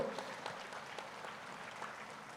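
A gathered crowd at a Pyramid meditation event claps together, a faint, distant patter of applause that fades slightly toward the end with no clear talk.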